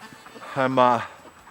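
A single short quack rises from a flock of ducks kept in a farm building in winter, close and moderately loud over a quiet background.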